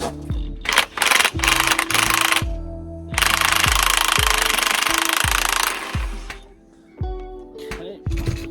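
An impact gun rattles in repeated loud bursts as it tightens the suspension nut on a Renault Clio mk3 front strut, with short pauses between runs and one long sustained burst, up close.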